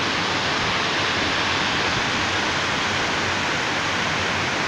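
Waterfall in the Cirque de Saint-Même in Chartreuse, a loud, constant broadband roar of falling water that fills the whole clip with no variation and no voices.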